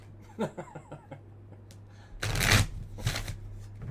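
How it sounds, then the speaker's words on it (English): A deck of tarot cards being handled and shuffled: soft taps and light card handling at first, then two loud, close, crisp shuffling bursts near the end, over a steady low hum with no talking. "just out of curiosity, we'll pull some cards."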